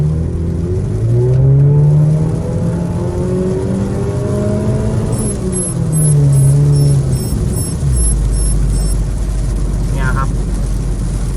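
Car interior while accelerating to about 80 km/h on a wet road, with engine tones rising and falling through gear changes over a steady road roar, heard up close with occasional voice sounds.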